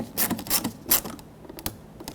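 Screw being tightened on the interior door handle bezel of a 2006–2010 Hyundai Sonata: close, sharp creaks and ratchety clicks in short bursts, then quieter scratches, with no talking.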